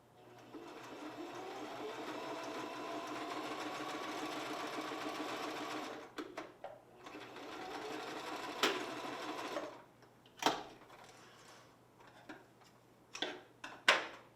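A sewing machine stitches a ribbon skirt, running in a quiet, even hum for about six seconds, then starting and stopping in short bursts broken by sharp clicks.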